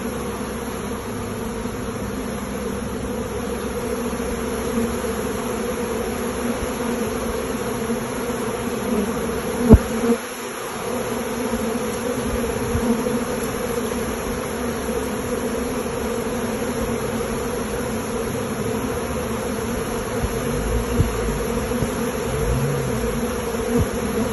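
Honey bees swarm around an open beehive, a steady close buzzing drone that runs without pause, with a brief thump partway through.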